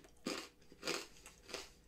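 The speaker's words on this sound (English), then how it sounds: "I don't know if the crunching is now annoying" Crunching bites on a crisp cinnamon-flavored snack, several loud chewing crunches in an uneven rhythm, close to the mouth with no talking.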